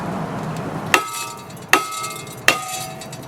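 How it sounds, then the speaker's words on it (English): Three evenly spaced hammer blows ring out on a brake rotor, each with a bright metal clang that decays quickly over a low background hum. "I'm gonna use the other hammer"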